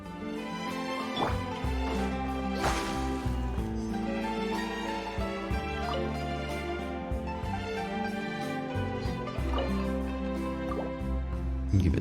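Water being poured to water plants in a video game, rapid dripping and splashing liquid sounds repeating throughout over a bed of steady game music.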